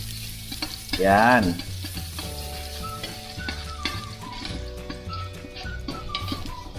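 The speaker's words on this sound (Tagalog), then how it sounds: "Igisa natin yung bawang hanggang maging golden brown at mabango." Garlic sautéing in cooking oil in a pan, a steady close sizzle with crackles and a few stirring scrapes, plus a brief vocal sound early and a faint word.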